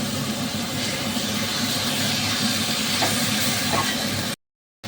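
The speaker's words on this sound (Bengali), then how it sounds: "এবার আমি মাটনটা ভালো করে মশলার সাথে কিছুক্ষণ কষাবো" Mutton sautéing with spices in a pan gives a steady, dense sizzle and hiss that holds evenly for over four seconds, then cuts off abruptly into silence.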